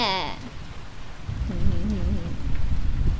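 Rain pours in the video game Jack-O'-Lantern, a steady hiss of falling water with a low rumble underneath, while a voice talks briefly over it.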